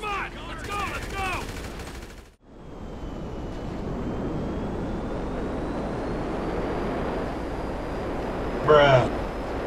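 In GTA V, an airplane on a runway gives off a steady, broad engine roar that holds for several seconds, following a brief burst of gunfire, with voices talking at the start and end.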